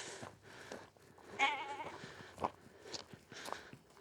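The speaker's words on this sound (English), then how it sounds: "This is like the best world for sheep, innit?" Sheep bleating on a coastal clifftop walk between Robin Hood's Bay and Ravenscar, a few short nearby bleats rising over wind and outdoor ambience.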